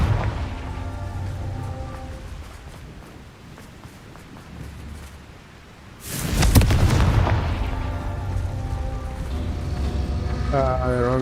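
A Confringo blasting spell from a video game goes off with a sudden loud boom and a long rumbling, crackling burst midway, set against game music and ambience before and after.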